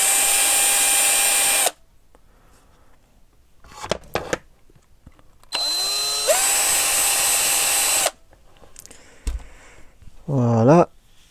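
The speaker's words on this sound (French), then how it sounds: "Un forêt du même diamètre, hop, on fait 2-3 allers-retours." A small power drill with a bit matching the hole diameter whirs in two steady high-pitched bursts while reaming holes during a restoration of a Kyosho Sandmaster nitro RC buggy, with clicks and handling noises between runs and a short rising whine at the end.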